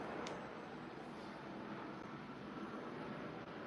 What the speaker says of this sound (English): A plane must be super low.